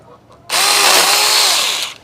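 A loud power tool suddenly starts cutting through Mexican sunflower stalks, close to the listener, with a harsh buzzing whine that holds steady for about a second and a half before it stops.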